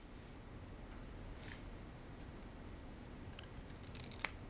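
Beveled-edge scissors being tested after sharpening make a few faint crisp snips over quiet room hiss, ending with a sharper click.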